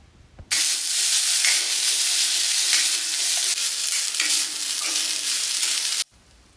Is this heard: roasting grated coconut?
yes